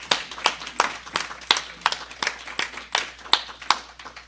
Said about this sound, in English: Let's give her a round of applause for the beautiful song she sang today.